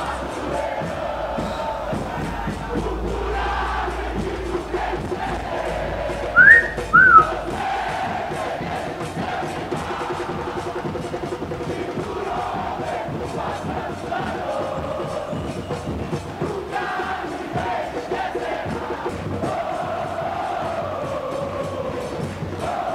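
Remo football supporters chant together in a dense, steady crowd roar throughout, with a couple of sharp whistle blasts cutting through near the middle.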